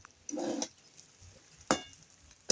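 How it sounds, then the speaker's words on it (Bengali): A spoon stirs cooked rice with lemon juice in a pan: a short scraping stir near the start and a sharper clink later, faint and close, with quiet pauses between. "লেবু রসের সঙ্গে একটু ভালো করে মিশিয়ে নেবো রাইসটা"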